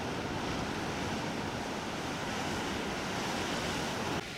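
Sea waves surge into a rocky pool on the Easter Island coast, a loud, continuous roaring wash with wind buffeting the microphone, cutting off abruptly near the end.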